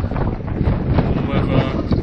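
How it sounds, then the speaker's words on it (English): Strong gusts of around 50 mph on open moorland in Dartmoor National Park buffet the microphone with a constant, loud, rumbling roar. "Here it's going to be 50 mile per hour gusts, really windy now."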